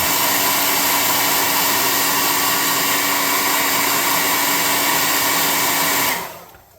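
A hair dryer blows steadily and loudly at close range to dry a freshly painted Heroclix miniature being converted into a vampire boss, a constant roar that cuts off abruptly near the end.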